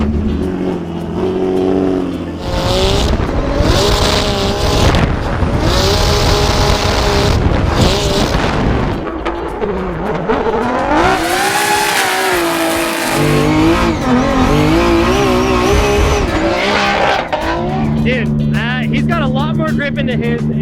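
A turbocharged race car engine revs and pulls hard on a track, its loud, sustained howl rising and falling through gear changes, with tire noise and voices talking over it.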